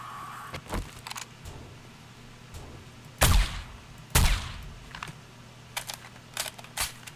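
Two sharp, loud gunshot bursts from a firearm in the survival game 7 Days to Die, Alpha 18, spaced about a second apart amid softer clicks and a low steady hum, with no talking.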